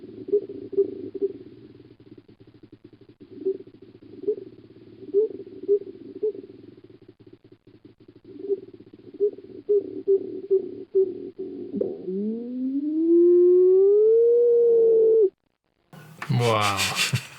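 A treehopper's vibration call in the Amazon: a string of low, rhythmic buzzing pulses, then a rising, warbling whine, ending in a harsh burst of noise.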